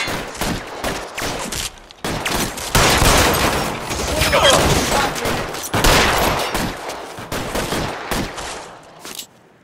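Dense, heavy gunfire from a shootout in the video game L.A. Noire: rapid overlapping shots and bursts fill nearly the whole stretch, loud and close, with brief lulls between volleys.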